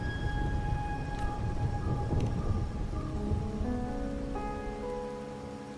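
Rain falls steadily in a Wuthering Waves game scene, a dense continuous hiss with a low rumble beneath it, while tonal game music plays over the downpour throughout.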